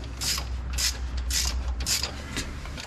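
A ratchet draws down cylinder head bolts on a small-block Chevy 350 from a '78 Chevy K5 Blazer, with about five rhythmic rasping clicking strokes, close and fairly loud, and no talk.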